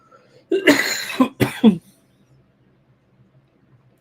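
A few sharp, close coughs in quick succession, followed by quiet.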